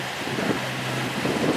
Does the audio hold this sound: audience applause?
no